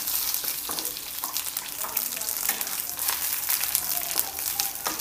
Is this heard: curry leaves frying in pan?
yes